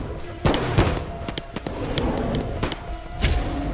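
Gunshots in the Bigfoot hunting video game, a few sharp sudden cracks spaced across the moment, loud and close, over a bed of game ambience.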